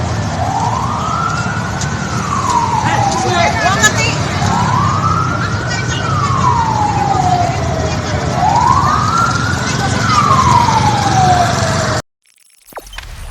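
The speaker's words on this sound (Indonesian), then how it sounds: "Ambulan di perempatan Galeria." An ambulance siren wails, rising and falling in slow repeated sweeps over steady traffic noise at an intersection in Yogyakarta, Indonesia, loud and close, with a brief spoken remark at the end.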